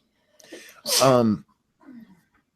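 A single sharp sneeze bursts out close by, with a soft breathy intake before it and a faint murmur after.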